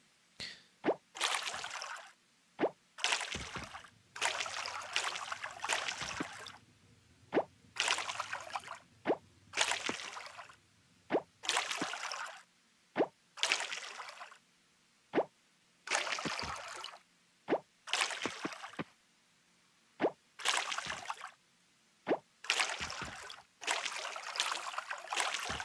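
A watering can soaks crop plots in the farming game Coral Island, about a dozen quick splashing pours with sharp plops, repeating in an uneven rhythm, close and clear with no voices.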